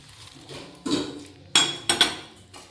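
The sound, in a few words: mixing pakoras into curry with a spoon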